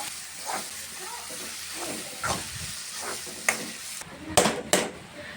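Grated raw mango frying in a pan for mango rice, a soft low sizzle broken by several scraping stirs and a couple of sharper spatula knocks near the end.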